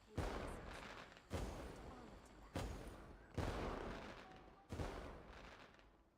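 Fireworks going off in the Genshin Impact video game, five sharp booming bursts about a second apart, each fading into a crackling decay, loud and close with a voice speaking faintly between them.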